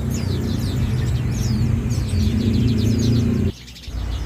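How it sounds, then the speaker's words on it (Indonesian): Songbirds chirp busily in an Indonesian bird kiosk where leaf warblers and prinias share cages, with layered high calls over a low hum; the chorus cuts out briefly near the end before resuming. "Untuk burung cikrak daun juga masih ada beberapa ya, kita campurkan dengan burung perenjak teman-teman."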